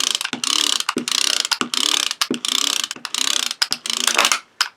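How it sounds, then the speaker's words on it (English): Spin fighter toy launcher being wound by rolling its wheel, a loud rapid ratcheting clatter in repeated bursts with short pauses, close and alone with no talk. "Instead of hand winding them, we have a wheel, much like the turbo launchers."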